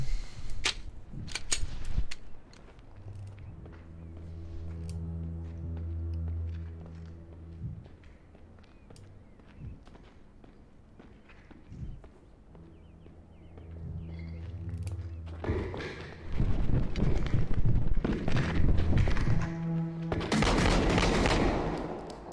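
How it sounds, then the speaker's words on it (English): Gunfire from Unrecord, a realistic Unreal Engine 5 shooter, crackling in loud sharp bursts near the start and again toward the end, over steady game ambience and a low droning hum. "Shots fired! Shots fired!"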